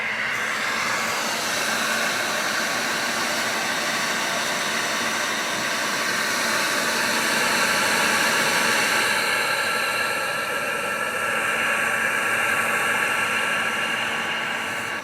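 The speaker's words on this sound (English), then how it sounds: "Now I'll give that a quick shot with the heat gun." A heat gun blows on freshly painted bathroom sink backsplash paint, giving a steady, close, airy hiss that holds at an even level for about fifteen seconds.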